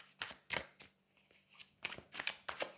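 Tarot cards are shuffled and drawn in a series of crisp, quiet riffles and flicks, with short bursts separated by brief pauses, close and alone.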